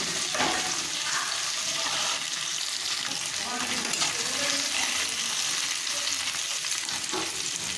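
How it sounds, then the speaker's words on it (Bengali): Chopped carrots and tomato frying for Bengali-style khichdi make a constant, fairly quiet sizzle with a watery crackle and faint stirring, steady throughout with no clear breaks. "এবারে আমি গাজরের কুচিগুলো অ্যাড করে দিলাম, দিয়ে একটু ভেজে নেব"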